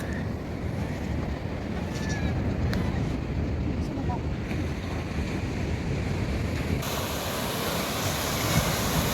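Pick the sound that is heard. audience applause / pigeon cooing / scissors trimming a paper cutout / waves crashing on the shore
waves crashing on the shore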